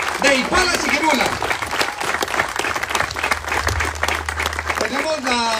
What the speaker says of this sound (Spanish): para el que pido un fuerte aplauso